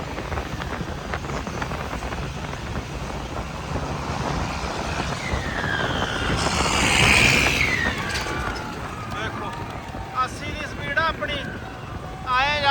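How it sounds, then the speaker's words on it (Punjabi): Tractor engines roar and swell as they race past at the Hola Mohalla festival in Anandpur Sahib, growing loudest mid-way and fading, with crowd voices and shouts rising over the noise. "ਵੇਖੋ ਦੇਖੋ ਰੇਸਾਂ ਲਾਉਂਦੇ ਟਰੈਕਟਰਾਂ ਦੀਆਂ"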